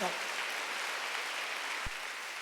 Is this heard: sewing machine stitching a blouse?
no